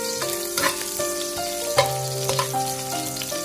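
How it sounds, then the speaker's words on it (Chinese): Ginger slices stir-fry in hot cooking oil in a wok with a bright crackling sizzle, heard close under steady tonal background music, with a few sharper spatter pops along the way. "油热之后下入姜片，再快速的翻炒，把姜片爆香"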